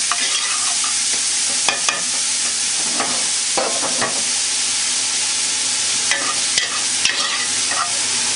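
Tomatoes sweating down in a very hot pot over an intense flame give a continuous close sizzle, with repeated clatters and scrapes of stirring throughout and no talk.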